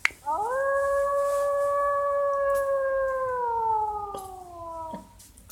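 A single sustained wolf howl with a rising start that holds a long steady tone, then bends down and cuts off after about five seconds, clear and close against quiet background noise.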